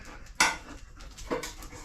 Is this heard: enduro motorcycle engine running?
no